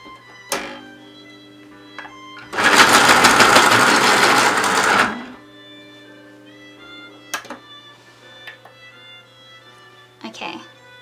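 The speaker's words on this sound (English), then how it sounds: "I'm just going to sharpen that." A sharpener grinds a coloured pencil in one continuous buzzing burst of about two and a half seconds, close and loud, framed by a few light taps and clicks before and after.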